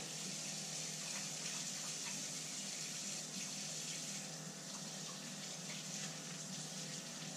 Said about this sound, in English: make sure you rinse all your soap off too